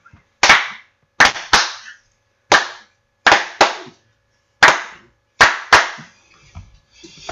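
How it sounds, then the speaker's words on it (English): Sharp, crisp hand claps in a podcast intro jingle, sounding in loose pairs and singles with silence between, close and loud, with faint music trailing at the end. "Put your hands together and clap for Adam and Phil and feel the power!"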